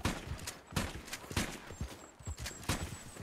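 Gunfire in Red Dead Redemption 2: a rapid run of about five or six sharp, close shots spaced roughly half a second apart, with brief crackling echoes between them.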